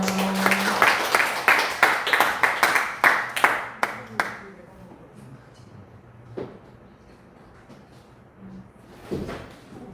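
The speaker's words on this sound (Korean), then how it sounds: "큰 박수로 맞이해 주세요" An audience welcoming a preacher at a Won Buddhist service claps in a burst of sharp, separate claps for about four seconds, then stray claps and faint room noise.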